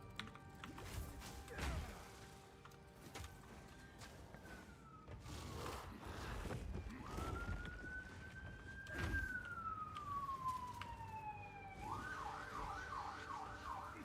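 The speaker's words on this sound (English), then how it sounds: "I don't know how loud the sirens are over mic" Police sirens in the Path of Exile video game wail and sweep in rising and falling tones, with a fast yelping pattern near the end, moderately quiet over a low background of game sounds.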